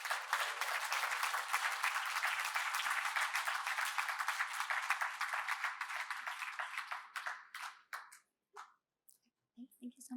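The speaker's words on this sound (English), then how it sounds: "a round of applause for everyone on stage" Audience at a London Tech Week startup pitch competition gives a round of applause for everyone on stage. Dense, even clapping thins over several seconds into scattered claps, and a voice follows at the end.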